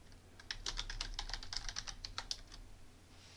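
Typing a login username and password on a computer keyboard for a Thycotic Secret Server web interface: a quick, steady run of close, crisp key clicks lasting a few seconds over a low background hum.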